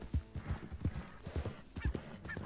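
Horse hooves clip-clopping at a steady walking rhythm in Red Dead Redemption 2, with a tired horse carrying its rider along a trail; close, regular thuds with a soft whinny-like sound near the end.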